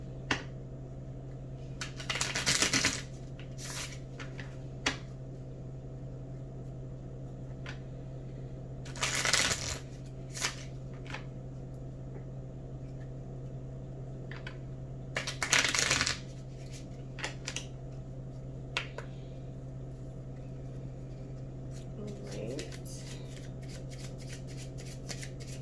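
Island Time wellness cards being handled and dropped give several short bursts of flicking, slapping card noise separated by quiet stretches, close by over a steady low hum, with no voices.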